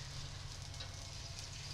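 Eggs fry in a pan alongside sizzling barbacoa, giving a faint, steady crackling sizzle with a low hum underneath, continuous and unbroken, with no voices.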